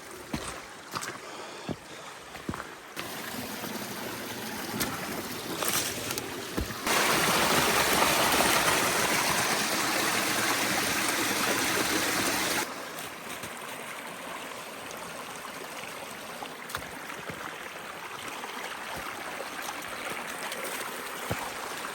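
A creek rushes steadily through steep-sided woods in freezing conditions, a continuous broadband wash of flowing water that swells louder for several seconds in the middle, broken by occasional knocks and footsteps.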